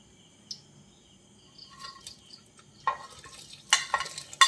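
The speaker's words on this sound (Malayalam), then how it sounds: "ഇത് ഒന്നും കൂടി നമുക്ക് ഇതെല്ലാം കൂടെ ഒരുമിച്ച് ഈ എണ്ണയിലോട്ട് ഇട്ട് ഒന്നും കൂടി ഒന്ന് ഫ്രൈ ചെയ്തെടുക്കാം." Batter-coated cauliflower pieces for gobi manchurian go into hot oil over a high flame, starting as a faint sizzle and building into clustered stirring clatters and spatters near the end, close by, with no one talking.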